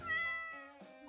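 A cat meows up close in a quick, drawn-out call that shifts pitch partway through, clear and alone against a quiet background.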